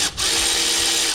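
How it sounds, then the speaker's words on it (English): A Milwaukee impact wrench works on a tight engine bolt while a Subaru Impreza 2.5RS engine is being pulled, making one loud, close, continuous high-pitched whirring burst of about a second. "The Milwaukee wrench really helped with that, I think."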